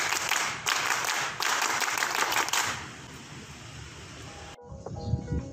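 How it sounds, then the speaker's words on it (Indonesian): A scout group claps a quick, patterned Pramuka rhythm cheer, the clapping stopping partway through and leaving a noisy room that tails off into quieter background sounds. "Tepuk pramuka"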